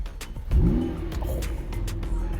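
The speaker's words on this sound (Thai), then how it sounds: "อย่างเช่นผมขอสตาร์ทรถก่อนนะครับปึ๊บ" A McLaren GT supercar engine turns over and catches with a quick rising snarl, then settles into a deep, rumbling idle.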